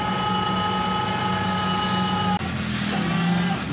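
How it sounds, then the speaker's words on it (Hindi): A loud, steady engine drone with a constant hum and rattling harmonics, continuous throughout as if heard from inside a moving vehicle. "मेरा गाड़ी में ना इंजन का इतना आवाज़ करता है"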